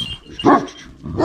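Turkish shepherd dogs at a kennel in Ankara give two close, loud barks, a short gap between them, with no talking over them.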